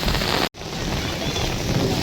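The season's first heavy rain in Baramati pours as a steady close hiss, broken by a brief sharp dropout early on before the downpour resumes evenly.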